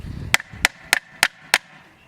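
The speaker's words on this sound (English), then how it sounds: "So you're gonna go ahead and use the hammer now." Five sharp, evenly spaced hammer blows strike painted wood with an N-Hance finish, each a loud, crisp crack close to the microphone with a short ring after it.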